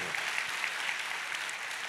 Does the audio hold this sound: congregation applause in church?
yes